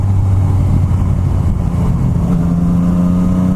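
A Yamaha MT09 with an Akrapovic carbon full exhaust system idles close by, a steady, loud, deep burble with a low droning hum throughout and no talking.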